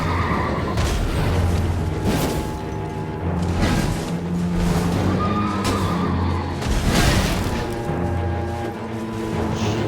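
A horse neighs loudly amid dense Elden Ring game noise of clashing, thumping combat and rumbling effects, with no talking.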